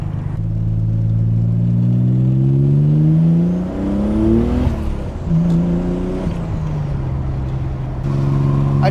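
A Nissan 300ZX twin turbo with dumped wastegates accelerates onto a highway, its loud engine note climbing steadily in pitch, dropping at a gear change and then rising again up close from inside.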